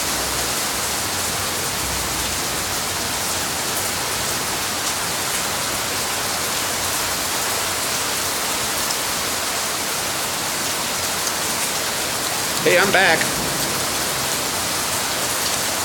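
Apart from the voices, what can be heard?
heavy thunderstorm rain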